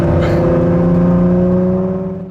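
2017 Ford GT engine accelerating hard, a loud, close, sustained roar with a rising tone that fades quickly at the end.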